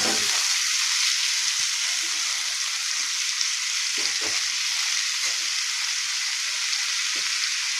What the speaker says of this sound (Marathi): आपण त्यात आता ह्या शेंगा टाकून घेऊया. हलवून